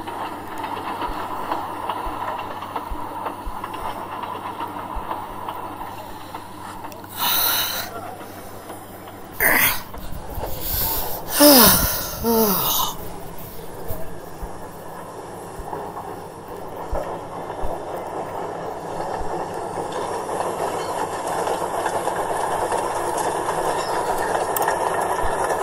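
The steam engine Percy pulls away on rails with hissing steam, rhythmic rail clatter and a few loud bursts midway, then a steady rolling rumble, while a narrator's voice speaks over it.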